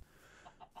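A Minecraft chicken gives two or three short, faint clucks in quick succession within a brief moment, with no talking over them.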